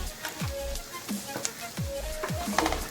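Ginger and green chili sizzle in a pan, a steady crackling fry broken by several rhythmic scraping stirs of a spatula.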